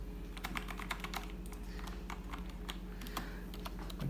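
Typing on a Corsair K68 mechanical keyboard with Cherry MX Red switches, a steady run of close, crisp key clicks over a low background hum, with no talking.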